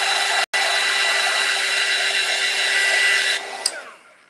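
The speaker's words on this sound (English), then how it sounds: "So I generally get it to this stage, dry it with the air gun" Hot air gun blowing steadily to dry glue on a fabric tassel garland, a loud, continuous broadband whoosh with a brief cutoff near the start and a sputter as it shuts off at the end.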